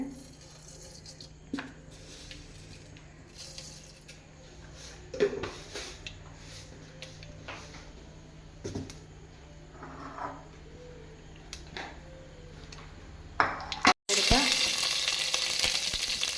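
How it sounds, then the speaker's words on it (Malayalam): Mustard seeds spit and crackle in hot coconut oil in a pan, with soft scattered pops and a steady low sizzle throughout and a louder burst of hissing near the end. "ഇനി നമ്മൾ കടുകിടാം വെളിച്ചെണ്ണ ചൂടായി കിടക്കുവാണ്"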